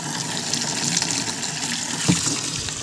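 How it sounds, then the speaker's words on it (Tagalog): Water gushes hard out of a pipe at a farm water source fed from a well about 120 meters away. The rushing, splashing torrent is loud and constant, heard close up and alone. "Lakas ng tubig to."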